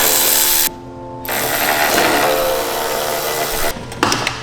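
A ratchet working loose bolts on a crusty car engine being torn down, dense rapid clicking that stops briefly, resumes for a long stretch, then breaks into a few sharper clicks, loud and close.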